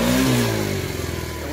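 A TaoTao 50cc Chinese scooter engine revs hard as the throttle is cranked, its pitch rising and then settling into a rough, uneven drone. The engine is loud and close, with no talk over it.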